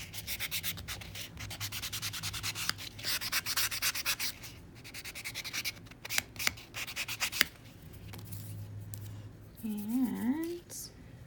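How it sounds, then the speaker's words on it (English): Buffing block rubbed quickly back and forth across fingernails, close and continuous scratchy strokes in bursts, with a short pause and a brief voice near the end. "I'll go in with a buffing block."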